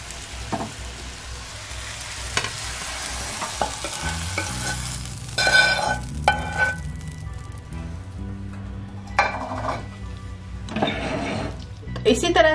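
Hot tadka tempering poured over dal dhokli in a home kitchen sizzles and crackles in bursts, with stirring and scraping of utensils close by and a person talking throughout.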